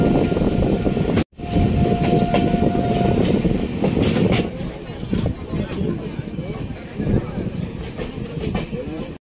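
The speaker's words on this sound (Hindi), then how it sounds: "पहुंच गए इस ट्रेन का चौथा Holt Sonpur junction, Sonpur junction." The Bihar Sampark Kranti train rumbles loudly into Sonpur Junction, a steady rolling clatter of wagons with a brief horn-like tone early on, then slowing and quieting, while someone talks over it.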